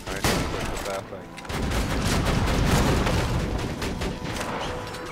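Rapid gunfire bursts from a first-person shooter battle in Borderlands 2, loud and dense, running almost continuously with brief dips, while a voice chats faintly underneath.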